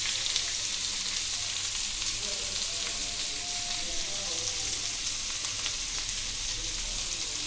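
Chicken tikka kabab skewers laid in a hot pan sizzle with a steady, dense frying hiss, even and unbroken, with faint handling sounds.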